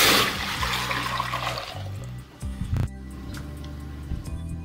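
Hot water pours into a pressure cooker, first a loud splashing gush that tapers into a thinner stream with a few clinks of metal, heard up close with no one talking.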